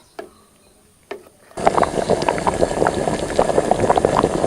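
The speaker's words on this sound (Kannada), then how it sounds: "ಇದೊಂದು ಒಂದು ಕುದಿಯಾದರೂ ಬರಲಿ" A couple of soft clicks, then a pot of sambar breaks into a vigorous, continuous bubbling boil that carries on close and loud to the end.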